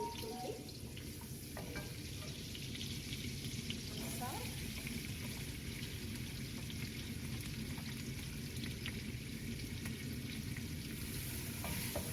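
Onions fry steadily in oil in a pan until deep brown for carrot biryani, a continuous soft sizzle throughout with faint background clatter.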